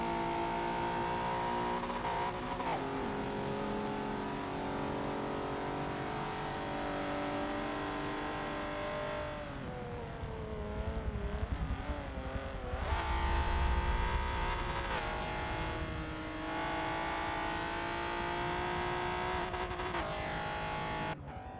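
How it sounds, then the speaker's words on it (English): Historic touring race cars of a championship round head for the finish line, engines droning steadily at a distance with a few rising and falling passes, and a louder car sweeping close midway, with no talk. "Just waiting for the few final cars now to actually make it their way to the finish line."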